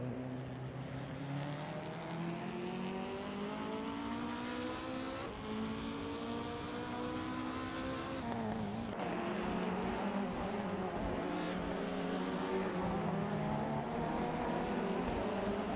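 Several race car engines in a virtual BTCC race at Zandvoort, a racing video game, drone steadily and loudly throughout, their pitches rising and falling as the cars shift gears and jostle, with a brief dip partway through.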